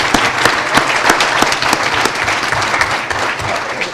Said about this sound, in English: can you help me in giving them a wonderful round of applause?